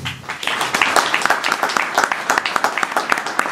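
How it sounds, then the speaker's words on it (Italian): An audience at a talk with invited guests gives brief applause, a dense patter of clapping that carries under a voice speaking. "Mina Welby, per cui chiedo un piccolo applauso,"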